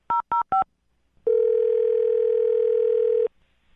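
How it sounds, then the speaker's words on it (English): Three quick electronic dialing beeps come first, then after a short pause a steady, loud telephone tone holds for about two seconds before cutting off, while placing a call. "I'll call him right now, see if we can get him on the phone"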